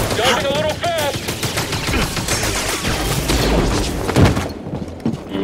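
Blaster gunfire crackles in Star Wars Jedi Fallen Order on PS5, with rapid, loud, overlapping bursts of shots, some whining tonal zips early on, and sharp impacts before the action briefly thins out.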